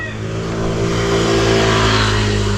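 A motorized tricycle on a rural road passes close by, its small engine droning and revving louder as it goes, a steady mid-pitched motor hum with no talking.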